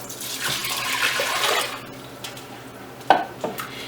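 Four cups of plain water poured into a pot for homemade elderberry syrup, a broad splashing pour for about two seconds, then a few clinks of pot and utensils, close and alone.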